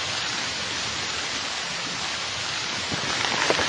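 Steady rain pours outdoors near an ancient tomb, a dense, even hiss filling the air without letup, with a few slightly louder drips near the end and no voices.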